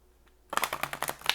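After a brief quiet moment, cards are riffled together in a quick burst of crisp, rapid flutters close by.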